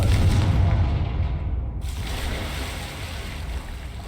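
A Confringo fire spell explosion in the video game Hogwarts Legacy: a heavy, deep boom up front that fades into a long rumbling, roaring tail, with no voices.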